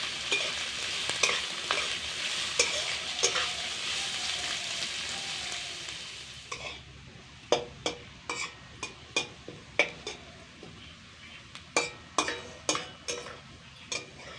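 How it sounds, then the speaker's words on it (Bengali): Chopped onion frying in hot oil in a wok, a close continuous sizzle that drops away midway, followed by a series of sharp scraping stirs against the pan. "এবার এই তেলের মধ্যেই কিছুটা পেঁয়াজ কুচি লালচে করে ভেজে তুলে নেব।"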